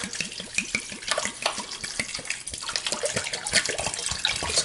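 Water pours from a tap into salt for a vegetable giardiniera brine, a continuous splashing trickle with small irregular bursts, close and moderately loud.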